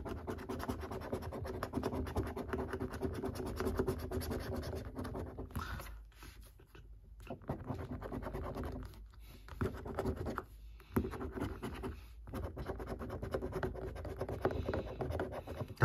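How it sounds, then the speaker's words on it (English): Steady, close scratching of a coin on a scratch card, continuous rasping strokes with a few brief pauses. "We'll just have to wait until we scratch it to see if we can get some more wins."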